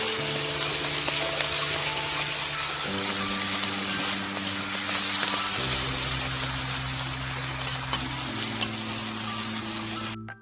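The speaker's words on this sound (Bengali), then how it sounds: "সামান্য একটু হলুদ দেবো, মানে ছিটবে না, ছিটছে এটা ছিটা বন্ধ হয়ে যাবে, তেলগুলো ছিটবে না।" Prawns fry in oil seasoned with salt and turmeric for a Bengali dish, giving a loud, continuous sizzle with scattered spits and pops under steady background music.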